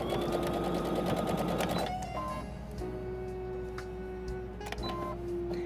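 A sewing machine stitches a seam on a hanging oven door towel, rapid needle clatter running loud and steady, pausing briefly, then resuming in shorter bursts.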